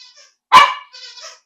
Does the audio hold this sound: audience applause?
no